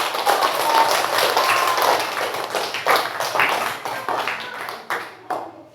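A classroom of students claps for a student group that has just presented, a brief flurry of close, uneven hand claps that thins out into scattered taps toward the end.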